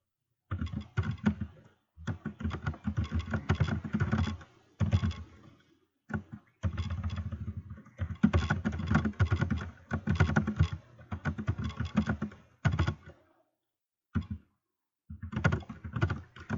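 Keys clatter on a computer keyboard in quick, close bursts of typing, separated by short silent pauses and ending in a few scattered final keystrokes.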